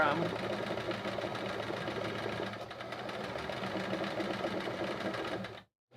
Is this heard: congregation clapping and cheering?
no